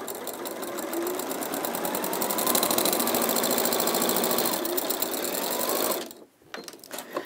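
An Elna 550-series sewing machine stitches across a bag lining, a fast steady mechanical whirr with rhythmic needle clatter that runs for about six seconds, then stops abruptly and restarts briefly.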